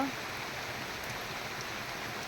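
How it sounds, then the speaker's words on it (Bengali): Steady rain falls outside a home in a continuous, even hiss, with no voices. "বৃষ্টি পড়ছে ঘুরতে যেতে পারবে না"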